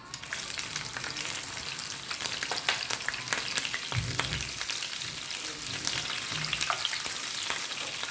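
Curry leaves, cumin seeds and chopped green chillies sizzle in hot oil in a pan, a dense, crackling fry with sharp pops, close and steady, no talking.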